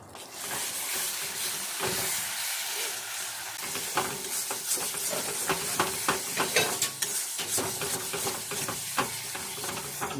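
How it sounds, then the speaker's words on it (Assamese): Continuous loud sizzle and hiss of a coconut and spice paste frying in a hot pan for prawn curry, with frequent scraping and stirring clicks throughout. "কিন্তু মই ভালদৰে ভাজি ল'ম"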